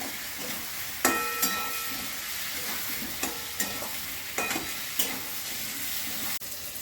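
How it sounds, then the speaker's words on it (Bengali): Chili and cumin powder sautéing in a hot pan for jackfruit curry, a steady frying hiss with a few sharp scrapes and clinks of a spatula stirring through. "লঙ্কার গুঁড়ো জিরে গুঁড়ো এবং ভালো করে কষিয়ে নেব"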